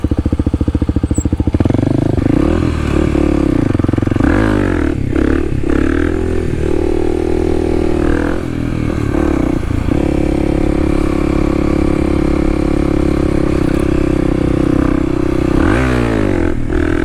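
Kawasaki KLX dual sport motorcycle on a ride, its engine loud and close with repeated revving rises and falls, gear-shift dips and a steady droning pull between throttle blips.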